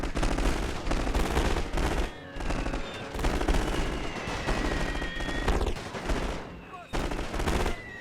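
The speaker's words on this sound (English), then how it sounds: "We'll be able to machine gun them down as they come through." Machine gun fire fills a World War I battle game, dense rattling bursts running almost nonstop under a loud wash of battlefield noise, with only brief dips between volleys.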